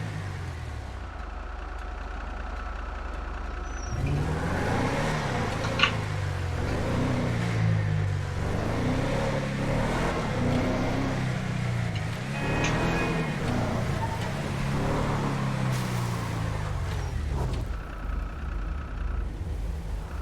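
A pickup truck engine in GTA Online idles low, then revs and drives, rising and falling steadily for about twenty seconds, close and fairly loud, with a few faint clicks and no talking.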